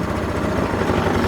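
A Linhai Aeolus 260 scooter engine idles steadily up close, a continuous loud rumbling drone with an even low pulse throughout.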